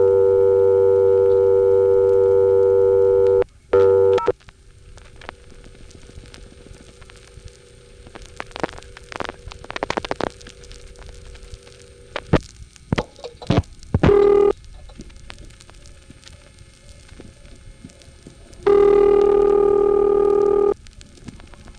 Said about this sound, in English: Here's dialing just 0 from Chambersburg, Pennsylvania, a place that has an NX1 with off-frequency dial tone.